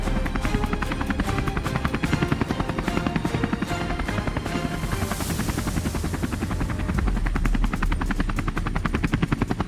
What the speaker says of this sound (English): We boarded the compact helicopter and headed out toward the mist-covered fields